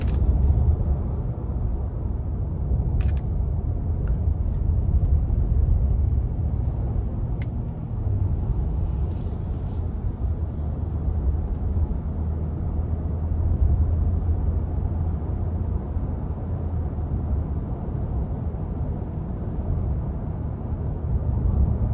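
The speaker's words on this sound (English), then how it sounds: "Most of the sound is coming from the tires" Steady low road and tire roar inside a 2025 Nissan Frontier PRO-4X pickup while driving, a constant broadband rumble with no talk and a few faint rattles over it.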